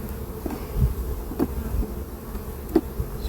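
Honey bees buzz around an open hive, a low steady hum with individual insects droning past close by, no voices.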